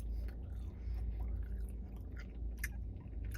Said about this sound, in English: Like, I have to do a lot of chewing.